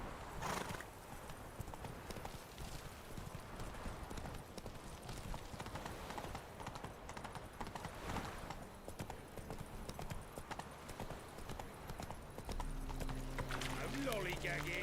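Horse hooves clip-clopping at a gallop in The Witcher 3 video game, a steady driving rhythm running throughout, with a horse whinny and game dialogue voices over it near the end.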